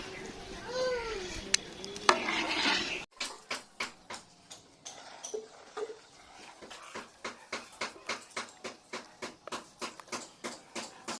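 Simmering cream is stirred in a pot while making homemade ghee: regular, evenly paced scraping strokes of a spoon against the pot bottom over a low bubbling sizzle, after a brief voice at the start.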